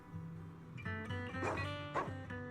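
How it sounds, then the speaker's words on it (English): Dog in the video game Zenless Zone Zero giving soft, tonal woofs and whimpery yips, a short cluster of two or three barks over steady game music, fairly quiet. "Woof woof."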